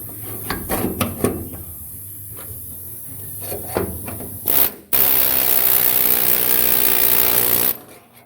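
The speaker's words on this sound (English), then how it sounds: "we're inside the car here. We're going to run air hammer and peel" An air hammer cuts into sheet metal on the body of a 1966 Chevrolet Nova, opening with scattered knocks and scraping, then a loud, sustained rapid hammering burst lasting several seconds before stopping.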